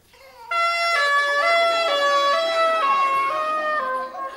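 Police car siren from a children's concert, a loud electronic two-tone wail stepping between pitches continuously for about four seconds, close and alone with no talk.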